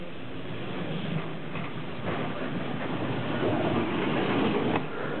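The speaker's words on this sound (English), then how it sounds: "That's the single tram, the single decker in the background there." Old single-decker tram rumbling past in the background at a tram museum, a steady low rolling drone with faint wheel clatter that swells slightly toward the end, no talking.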